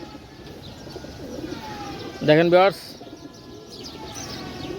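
A pigeon from a pair of golden pigeons gives one short, throaty coo, close and fairly loud, while someone talks over it.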